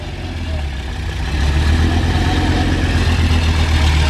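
An Audi Coupe Quattro engine running just after starting, following a distributor adjustment: a close, steady idle with a deep rumble that grows slightly louder partway through.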